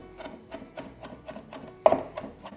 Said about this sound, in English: Roughly chop the little needles.